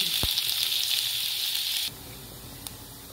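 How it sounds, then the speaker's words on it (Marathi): Onion frying with asafoetida in oil in a pan for stuffed masala bitter gourd, a bright, close sizzle that drops suddenly to a quieter simmer partway through, with a couple of sharp clicks and no speech. "हिंग टाकूया थोडासा, कांदा परतून"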